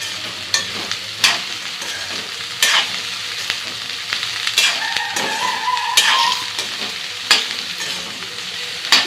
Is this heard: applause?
no